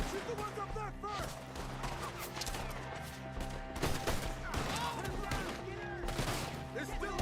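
Video game gunfire aimed at enemies up in trees, bursts of rapid shots scattered through a busy mix of music, effects and in-game character voices, fairly quiet overall.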